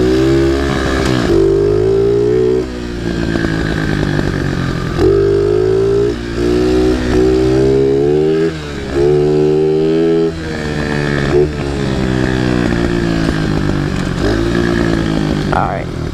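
A pit bike's small engine buzzes loudly and close through a lap in the woods, its pitch repeatedly rising and dropping as the rider accelerates and eases off, with brief dips between pulls.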